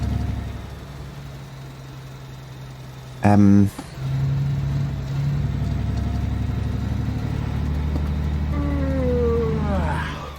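Truck engine from the driving game Alaskan Road Truckers drones steadily at a low mid pitch, with a brief loud burst early on; a voice talks over it throughout.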